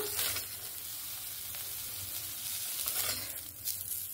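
Soya chunks sizzle steadily in hot oil in a wok, with a continuous close frying hiss and occasional stirring scrapes, no voices.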